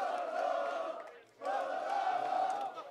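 An esports arena crowd at the IEM Katowice 2019 Legends Stage roars loudly during a CS:GO match, with a brief dip before the sustained chanting swells again.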